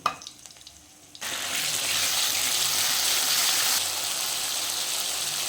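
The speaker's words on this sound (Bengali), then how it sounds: "এবার কড়াতে একটু কালো জিরা কাঁচা লঙ্কা ফোড়ন দিয়ে দিয়ে দেবো সর্ষে" Black cumin and green chilies hit hot oil in a wok for a Bengali mustard fish dish, after rohu fish was fried. A loud, close, steady sizzle bursts in after a quiet second and continues without talk.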